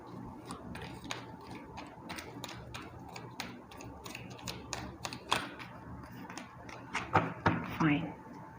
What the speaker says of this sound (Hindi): ओके एक बार और शफल करूंगी, उसके बाद लूंगी।